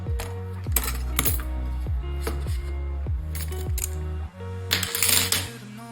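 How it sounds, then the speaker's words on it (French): A light is knocked over and falls, setting off a run of ringing metallic clanks and rattles that fade away, followed by a brief scuffling clatter near the end. "j'ai fait tomber la lumière"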